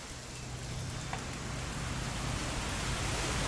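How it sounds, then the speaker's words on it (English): A steady, even wash of heavy rain from a storm in the video game What Remains of Edith Finch fills the clip with dense hissing noise, continuous and unbroken from start to finish. "Oh, I thought a car was coming, but it's just a storm."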